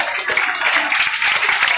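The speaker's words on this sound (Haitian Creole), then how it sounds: "Applaudissez s'il vous plaît" An audience applauds at a children's activity event in Léogâne, held a week before International Children's Day: dense, steady clapping that stays loud throughout, with no speech over it.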